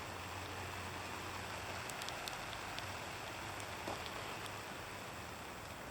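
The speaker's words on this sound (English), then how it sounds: "I think it's just raining now." Steady rain falls during a November wind storm with sleet and graupel, a faint, even patter and hiss with scattered small drop ticks throughout and no talking.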